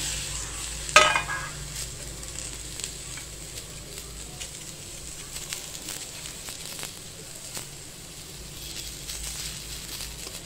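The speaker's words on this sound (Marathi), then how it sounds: "आपण हा सगळा मसाला भाजतोय बरं का" Masala of tomato, garlic and sesame seeds roasts in a pan, making a quiet, continuous sizzle with stirring scrapes, light crackles and a sharp clatter near the start; no one speaks.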